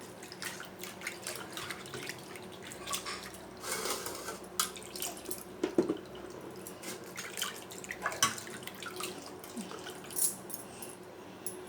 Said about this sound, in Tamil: இப்போ இதை நான் கழுவி காட்டுட்டுங்களா